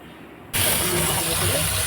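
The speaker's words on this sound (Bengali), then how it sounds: "কুমড়ার ডোকাগুলো এখন আমি পরিষ্কার করে ধুয়ে নেব 3-4 বার।" Running water gushes loudly and steadily as pumpkin stems are rinsed by hand, starting abruptly after a quiet half second and continuing without pause.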